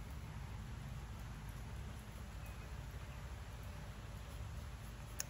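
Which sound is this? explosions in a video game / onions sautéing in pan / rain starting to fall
rain starting to fall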